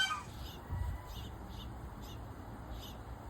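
Little finches in a summer garden chirp in faint, short high calls repeated every half second or so over soft outdoor background noise.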